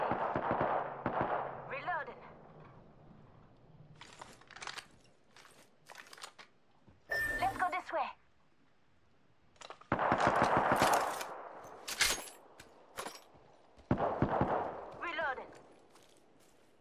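Apex Legends gunfire comes in short automatic bursts and single cracks, some loud and close, others fainter, separated by brief lulls, with a voice speaking over parts of it.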